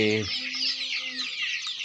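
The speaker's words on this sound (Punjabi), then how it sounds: "ਦੇਖੋ ਦੇਸੀ ਚੂਚਾ" Desi chicks peep in a dense, continuous high chorus, close by, while a hen gives a brief low cluck at the start and a short sustained call follows.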